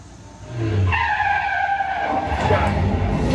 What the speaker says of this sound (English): That's where the tires lock up, the rear tires lock up.